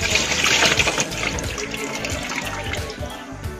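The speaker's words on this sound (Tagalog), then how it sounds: "Hugasan po natin yung ating ipinabad sa asin na galunggong." Salted galunggong fish is rinsed under running water in a sink, giving a steady close splashing and trickling wash throughout with no pauses.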